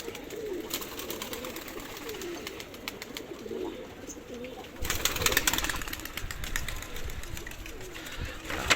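Pigeons coo in a steady low murmur, with scattered clicks and rustles that grow louder and busier in the second half.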